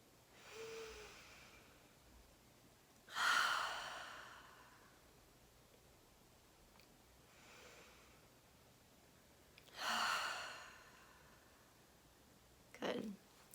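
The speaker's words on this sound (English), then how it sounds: "We can take just 3 deep breaths." Three slow, deep breaths spaced several seconds apart, each a soft airy inhale followed by a long exhale, close and quiet in a calm guided relaxation.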